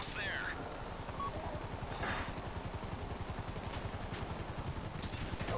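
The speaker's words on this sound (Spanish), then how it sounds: "ahora van a venir los putos helicópteros" The rapid, steady thump of helicopter rotors in the video game GTA V fills the scene at moderate volume, with occasional faint game effects and talk over it.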